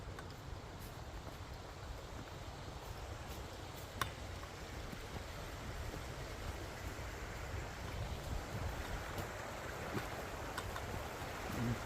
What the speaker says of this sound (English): Babbling Brook.